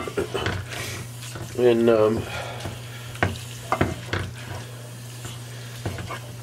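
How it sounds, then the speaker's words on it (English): Ground beef of an 80-20 grind sizzles and browns in a pan as a spatula keeps stirring and scraping through it, with a person talking over the cooking. "We'll keep stirring up the ground beef."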